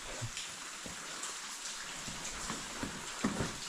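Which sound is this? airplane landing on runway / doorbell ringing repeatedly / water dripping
water dripping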